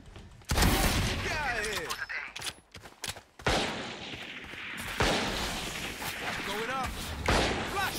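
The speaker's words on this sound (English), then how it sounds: "I swear they're having a sniper battle" Sniper rifle fire in the video game Valorant, several sharp shots and bursts of gunfire mixed with loud game effects while players talk over them.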